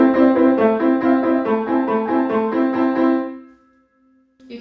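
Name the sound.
piano played with unbalanced hands, melody too soft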